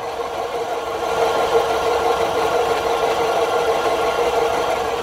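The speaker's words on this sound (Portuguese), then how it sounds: "Esse é o rolamento do compressor de ar" Bearing in a car's air-conditioning compressor producing a steady, droning hum with a faint rough growl, continuous and fairly loud for the whole stretch, heard up close at the engine with no talking.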